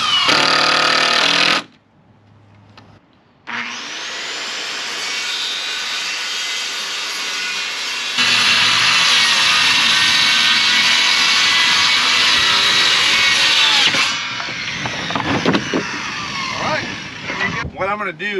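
A power driver loudly whirs as it sets the last screws into a metal chicken coop. Long sustained bursts are broken by a short pause, with faint rattles near the end.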